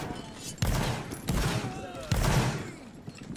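Gunfire in the Napoleonic War video game's Halloween zombie mode: three loud, broad shots or volleys roughly a second apart, each with a short decaying tail, over a low background din.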